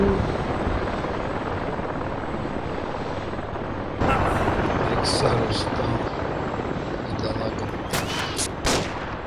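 A helicopter in the ArmA 2 military combat game drones continuously with a steady rotor roar, joined by scattered sharp gunfire cracks near the end while players talk.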